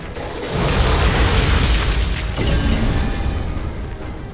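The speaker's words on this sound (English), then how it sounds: "Volcanic rounds to the rescue." Volcanic rounds burst in the Outriders shooter game as one heavy, sustained boom with a roaring fiery rumble that holds for several seconds without talk.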